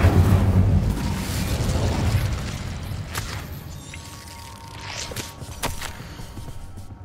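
Fire spell Incendio cast in Hogwarts Legacy, a loud whooshing, booming burst that swells up front for the first couple of seconds and then fades into softer crackles and scattered game effects.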